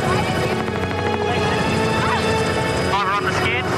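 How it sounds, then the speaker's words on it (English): A helicopter hovers low over water during a dive challenge on a reality competition show, its loud, steady rotor throb filling the whole stretch with music and voices layered on top. "In the final helicopter is Tao."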